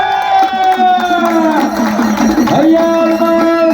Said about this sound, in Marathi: टाळ्या करा टाळ्या.